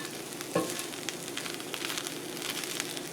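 Minced shallots frying in a pan give a soft, even sizzle throughout, with one brief clink near the start; fairly quiet and no voices.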